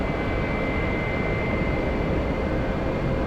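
Steady broadband roar from airliner GE90 engines taxiing at San Francisco International Airport, a continuous low-heavy rumble with a faint tonal whine, alone and unbroken throughout.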